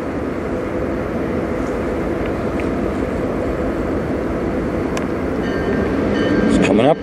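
A CN manifest freight train led by locomotives approaches on track 2 at Sarnia station, a steady loud rolling rumble that builds, with brief higher squeals and tones near the end.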